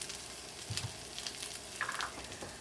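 Chopped onion with a pinch of salt cooks in a pan, giving a low steady sizzle with a few soft stirring scrapes while pork fried rice is being made. No one speaks.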